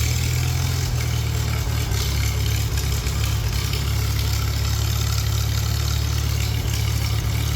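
A classic car or tractor engine idles steadily on a hot day with no choke, a loud, constant low rumble that holds even throughout with no revving.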